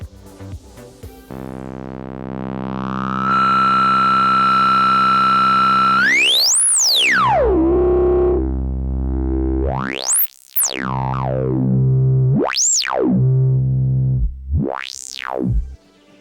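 Analog synth tones from a UNO Synth PRO X paraphonic dual-filter synthesizer with its two filter resonances linked: a sustained harmonic-rich note whose resonant peak sweeps up and down in loud whistling swoops, ending in several sharp rising and falling resonant chirps.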